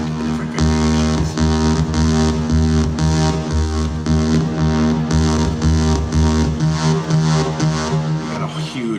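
A Roland SH-32 synthesizer plays saw waveform variations as a repeating rhythmic pattern of buzzy, harmonic-rich notes, steady and loud throughout.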